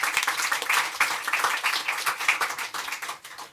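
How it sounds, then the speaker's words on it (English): An audience at a panel talk on international justice and war crimes claps steadily, a dense patter of many hands holding an even level before thinning out toward the end. "Round of applause."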